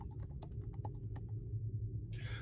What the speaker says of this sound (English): By the way, Knox, we can hear you typing.